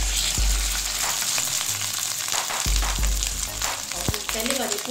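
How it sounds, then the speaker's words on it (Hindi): Chapli kabab sizzling in a frying pan, a loud continuous crackle and spit of hot oil, with a few low thumps and clinks from the pan and utensils. "अब इसको भी हम फ्राई पैन में डाल देंगे"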